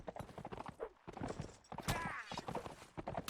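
Horse hooves clip-clop in a video game battle, with rapid clattering steps and a brief whinny under busy, layered battle noise.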